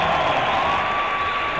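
Steady applause and cheering from a crowd at a speed climbing final of the world championships, a dense continuous roar without breaks.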